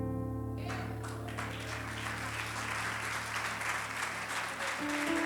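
Congregation applauding in a church service, a dense, steady wash of clapping from many hands that fills the space from start to finish at an even level, with a sustained tone running underneath.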